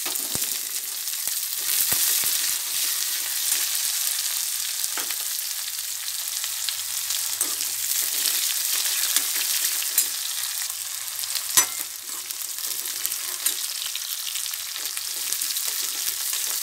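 Onions and cumin fry in oil in a pan, a constant crackling sizzle with occasional louder pops and stirring clinks, close by.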